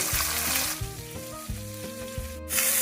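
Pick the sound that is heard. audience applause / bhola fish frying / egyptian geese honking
bhola fish frying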